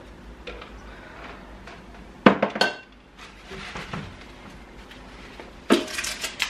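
Dishes being handled and put away in a home kitchen, with two short bursts of clinking crockery and cutlery set apart by quieter rustling. No voices.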